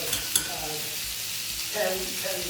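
Apples cook in a pan on medium heat, a steady soft sizzle underneath as a spoon stirs through, with a brief clink near the start and a scraping swell toward the end.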